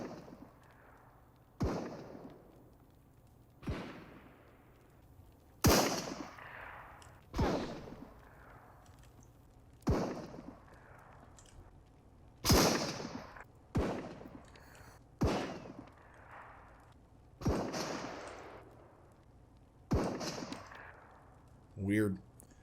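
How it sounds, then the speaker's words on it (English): Volleys of gunshots in the shooter game Marauders, heard one at a time at steady intervals of about two seconds, each a sharp crack trailing into a booming echo, some louder and nearer than others. "Give me another volley of shots."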